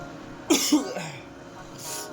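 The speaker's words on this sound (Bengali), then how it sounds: "আমার কাশি হচ্ছে" A child coughs twice in quick succession, close and fairly loud, followed by a softer breathy sound and quiet room noise.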